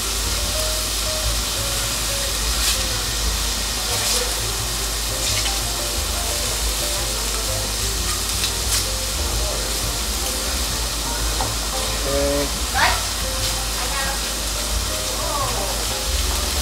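Shrimp sizzle steadily in a hot pan, a continuous close frying hiss lasting the whole stretch, with faint speech now and then over it.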